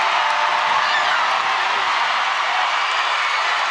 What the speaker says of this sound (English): Oh, you hear the crowd.